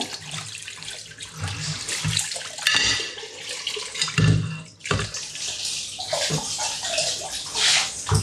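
Water pours and splashes steadily as something is rinsed indoors, a running, sloshing stream with brief surges and pauses, close and fairly loud, with no talk over it.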